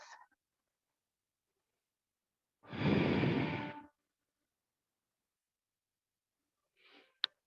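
A single long, audible exhale during a yoga class, close and soft against near silence, followed by a faint short breath at the end.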